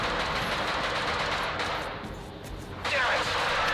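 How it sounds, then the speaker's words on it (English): Bursts of automatic gunfire crackle in a first-person shooter game, a dense continuous rattle of shots, some distant, layered over steady ambient noise. "Is that gunfire over there?"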